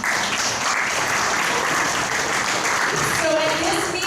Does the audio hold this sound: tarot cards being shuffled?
no